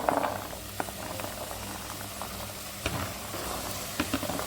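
Vegetables and peas cooking in a pan for a Tamil-style vegetable biryani give a steady close bubbling sizzle, with scattered small clicks and taps of stirring throughout.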